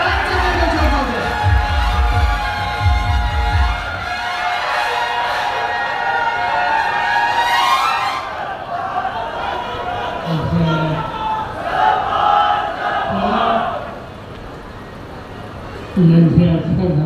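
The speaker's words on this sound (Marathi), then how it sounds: "जोरदार टाळ्यांचा गजरात अनुभव द्या." A large crowd at a Maharashtra election rally cheers and roars loudly, with a speaker's amplified voice over the noise and the crowd swelling again near the end.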